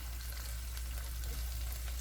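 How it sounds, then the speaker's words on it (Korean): Garlic and green onion fry in a pan over high heat, producing a soft, steady, continuous sizzle with no voices. "이제 지글지글 하네요."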